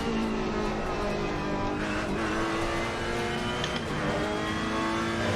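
A mid-engine race car runs at the Nürburgring in Assetto Corsa Competizione, its engine droning loud and steady from the cockpit as it holds speed and rises and falls slightly, with faint tire noise. Nobody speaks.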